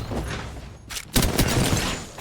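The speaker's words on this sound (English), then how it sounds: "Gunshots are being fired for a couple grenades as well." Gunfire and grenade blasts in Apex Legends, with rapid bursts of shots followed by a loud sharp explosion and more crackling fire close by, all without talk.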